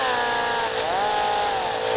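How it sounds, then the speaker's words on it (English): Cutoff wheel grinding through a metal part for a BMW clutch pedal stop, a loud continuous high whine with shifting pitch that dips briefly midway. "I'm going to use the cutoff wheel like this."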